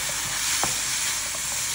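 Chopped ingredients with green and pitted Gaeta olives browning in a pan, a steady bright sizzle with a soft stirring scrape partway through, close and continuous without voices.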